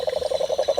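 Cane toad croaking in a fast, steady pulsed trill, about nine evenly spaced calls in under a second, loud and close with no other sounds.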